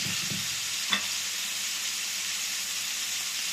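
Steady, dense sizzling of pork frying in a pan fills the clip, with a brief clink of a utensil near the start.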